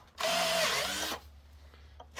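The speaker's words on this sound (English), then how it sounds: "Doesn't want to grab on with a drill." A power drill whirs loudly for about a second while trying to grip a brass insert, then stops, leaving faint handling noises.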